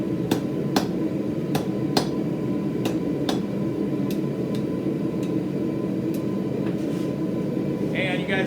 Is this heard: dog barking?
no